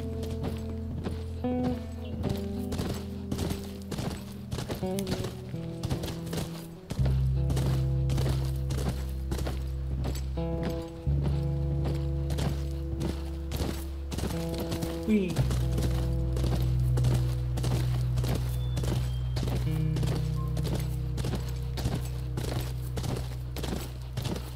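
A horse's hooves clop in steady, regular beats throughout a scene in The Last of Us Part I near a ranch, alongside a low musical score and occasional voices talking.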